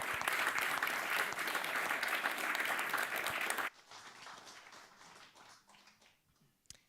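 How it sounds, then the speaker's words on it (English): An audience at a forum event claps together, dense and sustained for several seconds, then cuts to thinner, quieter scattered clapping that fades out. "Thank you all, and applause indeed."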